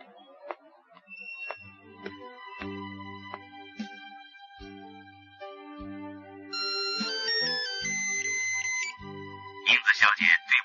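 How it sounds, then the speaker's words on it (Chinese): A phone rings in a Chinese police radio drama: a melodic electronic ringtone repeats over a soft backdrop, ending in several louder, rapid ring bursts. "你进超市以后，我会再打电话。"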